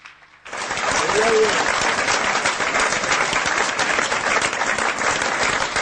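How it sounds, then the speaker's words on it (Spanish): A church congregation breaks into loud, sustained applause at a Spanish-language sermon, with dense clapping that starts abruptly and holds steady, and voices can be heard under it. "Démosle un aplauso al Señor Jesucristo."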